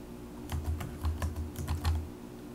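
Keyboard typing in quick irregular bursts of clicks, close and fairly quiet, with a steady low hum underneath.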